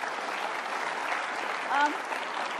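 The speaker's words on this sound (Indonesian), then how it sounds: "kita tepuk tangan" Sustained applause from a studio audience at the Indonesian talk show Mata Najwa, a dense even patter of clapping throughout, with a brief voice rising near the end.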